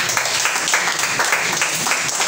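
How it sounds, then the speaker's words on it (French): Congregation applauding during a French-language church worship service, a dense, steady clapping that fills the room for a couple of seconds with no voices over it. "On acclame le Seigneur Jésus-Christ"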